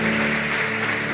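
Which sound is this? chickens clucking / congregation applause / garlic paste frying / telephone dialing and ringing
congregation applause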